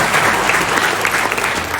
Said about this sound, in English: Don't you feel like clapping your hands?